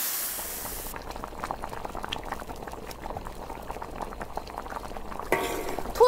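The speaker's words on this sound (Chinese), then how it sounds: "调味儿，生抽、老抽、胡椒粉、冰糖，中小火哈1个小时。 煮点土豆在里头" Pork tails braising with potatoes in a soy-sauce, pepper and rock sugar liquid on medium-low heat, bubbling steadily up close with continuous gentle pops and a brief clatter near the end.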